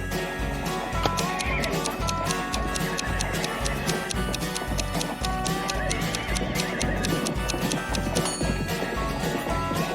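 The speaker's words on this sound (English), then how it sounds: "His horse's name was Friday" Steady clip-clop of hooves with a horse whinnying over a busy, layered background.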